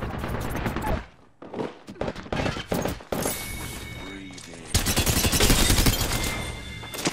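Gunfire in the video game Apex Legends: bursts of rapid automatic shots and sharp impacts, loud and dense, broken by short pauses and mixed with other game effects, with a player's voice heard in places.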